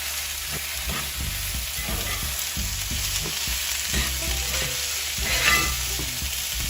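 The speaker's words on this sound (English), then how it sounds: "Yes, honey, that's sizzle." Steady crackling sizzle of food frying in a pan, with soft scraping and clinks of a utensil stirring through it. No voices.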